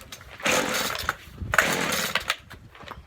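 Small two-stroke engine of a string trimmer (weed eater) sputtering to life in two loud bursts, first sharp and then a sustained buzzing run before cutting out, with a quiet gap between them.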